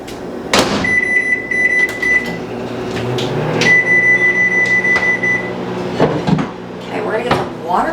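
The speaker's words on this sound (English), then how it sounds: "So let's put it in the microwave." A microwave oven runs with a steady hum and beeps while heating a frozen jar of chicken broth in a home kitchen, with cupboard and door clatter around it and a person talking nearby.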